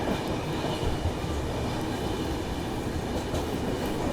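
AP Express passenger train running, a continuous close rumble with rhythmic clatter of wheels over rail joints, loud and steady from start to finish.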